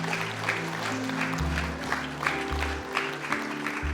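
Congregational applause in a church service fills the stretch with a steady patter of clapping, layered over sustained low musical tones that shift pitch in blocks underneath.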